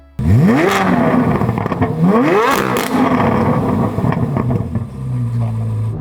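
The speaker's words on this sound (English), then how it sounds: "So as you guys just heard, the exhaust note is pretty amazing." A Chevrolet Corvette C8 Z06's exhaust revs up loudly several times, with rising and falling engine tones, then settles into a steady idle rumble.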